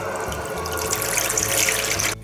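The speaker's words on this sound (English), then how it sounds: "Fill a sink with water and get a towel." A bathroom sink fills with water from a running tap, a steady close rushing flow that continues for about two seconds and then cuts off abruptly.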